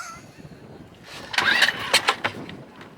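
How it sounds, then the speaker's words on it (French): A boat engine cranks and sputters into life, firing unevenly in a few rough bursts that rise above quiet background noise, as if catching only every other stroke. "Le moteur qui tourne une fois sur deux."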